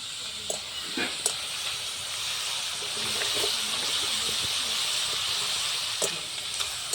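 Sliced potato chips fry in hot oil with a continuous, even sizzling hiss, broken now and then by sharp crackling pops, with no voices over it.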